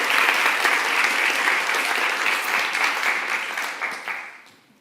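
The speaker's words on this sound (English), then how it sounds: "One more round of applause for you." Sustained audience applause at the closing of a design festival, a dense wash of many hands clapping that holds steady, then thins and fades out near the end.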